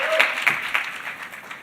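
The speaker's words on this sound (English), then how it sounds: "Clap for yourselves." A business forum audience claims its own round of applause: a brief, fairly loud burst of many hands clapping that thins and fades over a second or so, with no talk on top.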